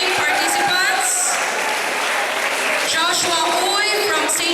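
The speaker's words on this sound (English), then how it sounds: "Shall we give a big round of applause to our three competing participants?" Audience applause for three students competing in an inter-school math and science quiz bee, a steady, fairly loud round of clapping lasting the whole stretch, with some voices and chatter mixed into the crowd noise.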